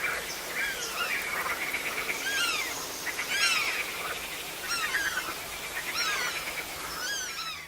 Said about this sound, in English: Now we will play a recording of the sounds of the night forest